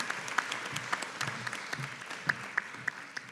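Applause from a graduation ceremony audience for Masters of Education candidates: steady, moderately faint clapping from a crowd, with a few sharper individual claps standing out throughout.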